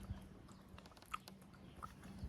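Someone biting and chewing mango, with soft crunches and quiet mouth sounds repeating at close range over a low background hum.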